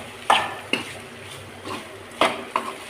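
A utensil stirs food frying in oil in a home kitchen pan, giving several sharp metallic clinks and scrapes at uneven intervals over a soft background sizzle.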